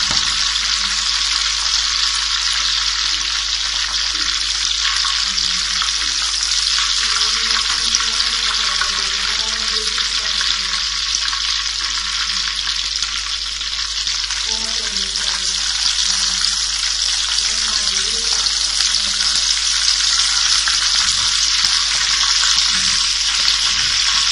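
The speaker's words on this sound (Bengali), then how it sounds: "এখন আমি আস্তে আস্তে তেলটা ছাড়িয়ে আমি তুলে ফেলছি একটা একটা করে" Quail fry in hot oil with a loud, dense, unbroken sizzle lasting the whole stretch, while faint tonal murmurs surface now and then beneath it.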